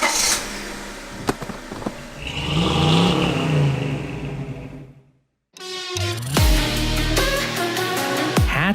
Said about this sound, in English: today we're driving this, the Honda Civic Hatchback Sport